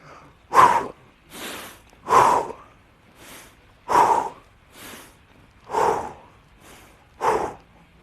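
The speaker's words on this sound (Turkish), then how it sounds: "siz yaparken daima hep nefes alıp nefes vermeniz lazım" Forceful rhythmic breathing during a morning exercise routine, with five strong exhale bursts alternating with softer inhales at a steady pace of about one every one and a half seconds, close and with no talk.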